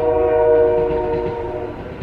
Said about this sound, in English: Sorry, there's a train.